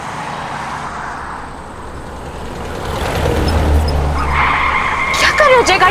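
A car skids and its tires squeal as it is driven badly, the rumble swelling midway and ending in sharp, wavering squeals, with voices talking over it.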